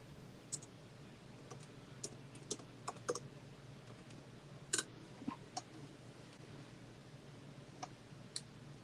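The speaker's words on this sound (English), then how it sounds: "I can hear you typing like a madman." Computer keyboard typing heard through a live stream call, with irregular clicks and keystroke bursts scattered over steady background hiss, fairly close and unaccompanied by talk.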